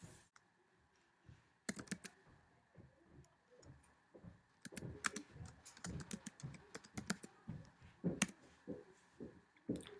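Typing on a computer keyboard, with irregular bursts of clicking keystrokes that start sparse and grow denser, close and fairly quiet, with no voices.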